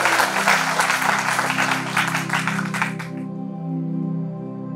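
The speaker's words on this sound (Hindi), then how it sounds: "सामने बैठे सभी हमारे नौजवान भाइयों ने, बहनों ने, बच्चों ने तालियां बजाकर आयोजकों का स्वागत करना चाहिए" Young audience clapping to welcome event organisers, a full burst of applause that cuts off abruptly partway, leaving a sustained tonal hum beneath.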